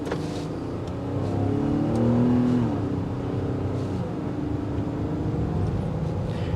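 A 2022 Infiniti QX60 Autograph SUV on 20-inch wheels with a 9-speed automatic pulls away, its engine note rising steadily through the gears over road noise, heard close from inside the cabin with no talking.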